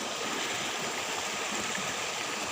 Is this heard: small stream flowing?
yes